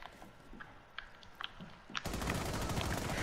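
Rapid gunfire from a shooter video game breaks out abruptly and keeps up as a dense, loud burst after a few sharp earlier shots, with no talking.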